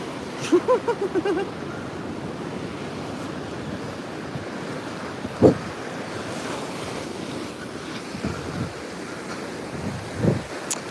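Ocean surf rolling onto a beach in Bali in the early morning, a steady close wash of breaking waves with wind buffeting the microphone and a few sharper splashes.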